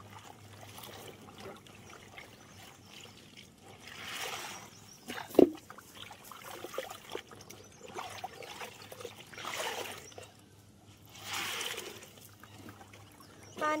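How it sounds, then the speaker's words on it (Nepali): A weak trickle of water runs from a pipe outdoors, a faint, uneven dribble with brief louder splashes and bursts of wind noise, no voices. "पानी पनि फेरि सानो आइरहेछ क्या यहाँ।"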